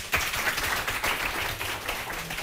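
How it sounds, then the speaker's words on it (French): Studio audience of a French television quiz show applauding the qualified candidates, a dense, steady wash of clapping close by with no one speaking. "On les applaudit."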